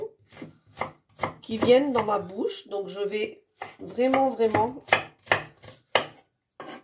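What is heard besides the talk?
finely chopping onion with a knife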